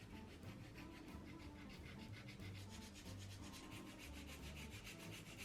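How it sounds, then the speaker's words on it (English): Rapid, steady rasping strokes of a file scraping back and forth across acrylic stiletto nails, close and continuous without pauses. "Time to file these bad boys down."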